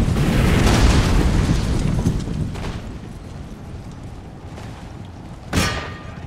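Cannon fire in Empire Total War: a loud rumbling boom at the start fades into a dull battle din, then a sharp, close explosion cracks near the end.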